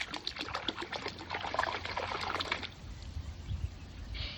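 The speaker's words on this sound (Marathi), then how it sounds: "कसं चपचप करतोय हा पाण्यात" Rapid wet splashing and dribbling of water, close and busy for the first few seconds, then quieter lapping with occasional splashes.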